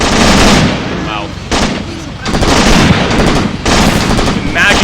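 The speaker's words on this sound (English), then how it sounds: "Imagine being under this kind of withering fire." Heavy WWII battle gunfire from Graviteam Tactics: dense, loud rolling bursts of machine-gun and rifle fire with booming artillery, nearly continuous with brief lulls, filling the whole stretch.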